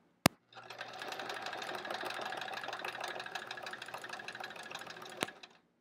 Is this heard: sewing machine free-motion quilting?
yes